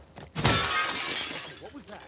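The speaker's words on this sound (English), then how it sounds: "As soon as the encounter starts, right here, I'm going to break this glass." Glass shatters loudly in The Last of Us Part II, a sharp crash followed by a bright, scattering tinkle of shards that rings on for well over a second, with a voice murmuring faintly under the tail.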